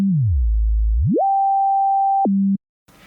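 An oscillator's pure sine tone sweeps down low, climbs to a steady mid pitch held for over a second, then steps down briefly before cutting to near silence with faint hiss.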